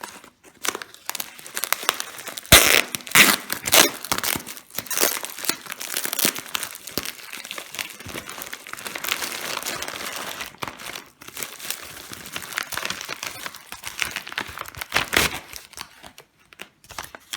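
Plastic packaging crinkles and tears as a monthly bead supply package is opened, a continuous close rustling with sharper crackles and rips throughout, no talking.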